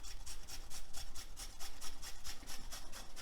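Cheese shredded on a hand grater for keto tuna cups, a steady run of about a dozen close rasping strokes in even rhythm, with no one talking.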